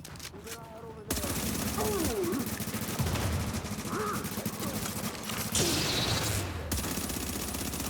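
Heavy enemy gunfire in a shooter video game, a sustained loud roar of rapid shots that runs almost without a break, with a voice talking over the barrage.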